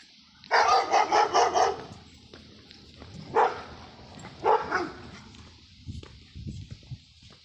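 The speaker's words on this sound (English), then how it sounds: "We got dogs." Several dog barks: a quick burst of four or five in a row, then two single barks a little later, fairly close, with quiet background between.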